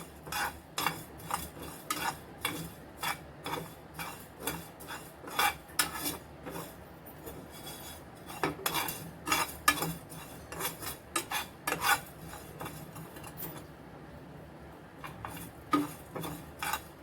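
Dry pickle spice masala roasting in a pan, stirred with a metal spoon that scrapes and clinks steadily against the pan in a close, busy rhythm with no voices.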